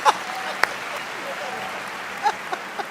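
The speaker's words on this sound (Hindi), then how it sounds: "तालियां हो जाए साहब" Audience applause at a Hindi poetry recital, a steady wash of clapping that carries on for several seconds with a few sharper claps standing out and voices mixed in.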